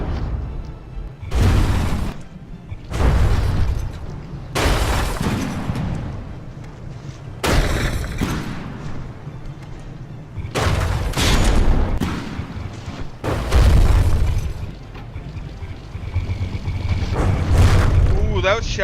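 Naval gun shells fire and slam into an enemy frigate's turret in a From The Depths tournament battle, a run of heavy booms and blasts recurring every couple of seconds at loud, close range, with rumbling low-end between impacts.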